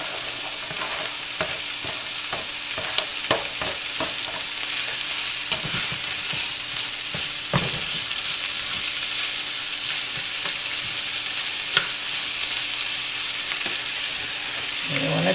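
Ham and green onion sizzle and crackle steadily in a hot pan for a western omelette, with scattered sharp pops and scrapes of stirring over the continuous frying hiss.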